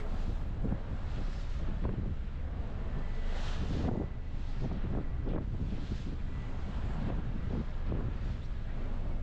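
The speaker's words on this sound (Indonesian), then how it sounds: "Angin" Strong wind aboard a passenger ship buffets the microphone in continuous low rumbling gusts, loud and unbroken from start to finish.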